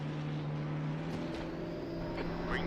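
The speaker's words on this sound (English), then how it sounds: "One more car coming." Race cars in a racing video game at Brands Hatch, with steady engine drone and a second car's engine rising as it approaches late in the clip, continuous and fairly loud.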